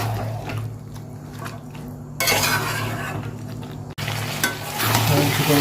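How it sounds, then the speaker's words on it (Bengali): Chicken and potato pieces fry together in a pan while a spoon stirs and scrapes against the metal, light clinks over a sizzle that jumps louder midway and stays strong after a short break. "আলুগুলো আর চিকেনটা একসাথে নাড়তে নাড়তে কষবো হালকা হালকা"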